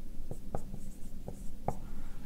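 Chalk or marker taps and scratches on a board in short, distinct strokes as an expression gets written out, a few sharp ticks with quiet pauses between.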